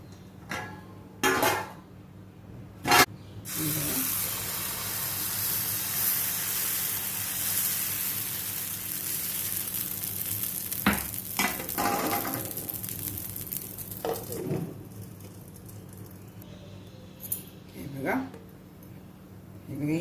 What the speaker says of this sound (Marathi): मी हे तेल लावून घेते आणि विडं व्यवस्थित तापलं गेलं पाहिजे